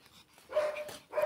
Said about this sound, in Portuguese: Vamos ver os cães de guerra, como é que tá os outros canis.